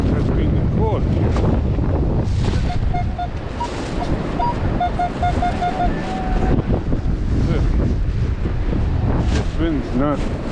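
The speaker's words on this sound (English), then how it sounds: "This wind's not letting up." Strong wind roars steadily across a beach by Santa Monica Pier, buffeting the microphone with a loud, continuous rumble while surf and faint tonal beeps sit beneath it.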